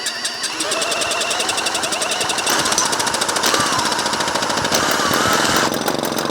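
A power drill used as a screwdriver works on screws of a vintage Velo Solex 1700 moped, giving a loud, steady rapid rattling buzz close by with brief pauses and no talk.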